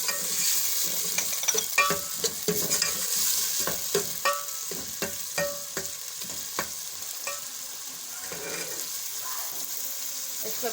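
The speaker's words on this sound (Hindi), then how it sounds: "इसी तरह से भूनते रहेंगे ताकि इसको अच्छी तरह से नरम हो जाए" Garlic and ginger sizzle with onions in a frying pan for dhaba-style mutton paaye, a bright steady hiss broken by frequent scraping stirs and clinks of a spoon, close up and without talk.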